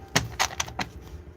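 Tarot cards being shuffled during a reading, four crisp riffling bursts in quick succession, close and fairly soft, then quieter handling with no talk.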